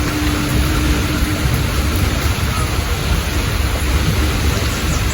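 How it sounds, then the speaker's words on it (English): Heavy rain pours steadily over Chattel Village in Holetown, Barbados, with a dense, constant roar of downpour and low thunder rumbling underneath. "The rain is intensifying."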